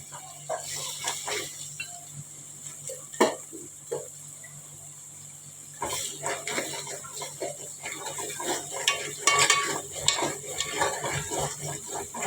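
Ground masala paste being stirred into mutton in a cooking pot, with scraping and clinking of a utensil against the metal over a steady background hum, busier and louder in the second half.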